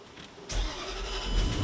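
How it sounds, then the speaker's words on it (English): A car engine cranks and catches abruptly, then keeps running in a steady, fairly loud idle that rises slightly, heard close by with no talking. "Let's see if the car turns on."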